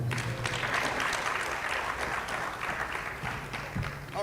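A round of applause from a conference audience welcoming a speaker to a sports panel, a full, sustained clatter of many hands at moderate loudness throughout.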